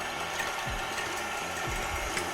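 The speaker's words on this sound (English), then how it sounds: "We will start whisking the eggs until nice and pale color." Eggs beaten for an Iraqi walnut cake batter with a steady mechanical whirring and rattling, pulsing at regular intervals, moderately loud with no one talking.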